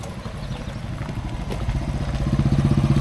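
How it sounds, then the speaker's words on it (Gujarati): Group of motorcycles on a Sunday morning ride approaching, engine drone building steadily louder over three seconds with a pulsing rhythm as the bikes draw near. "અને આ અમારી બાઈકો આવી રહી છે સામેથી"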